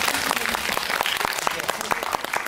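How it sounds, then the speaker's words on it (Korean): An audience at a Korean film screening Q&A claps, a dense steady patter with some distinct sharp claps standing out, and quiet talk beneath it. "인정하시면 박수 한 번만"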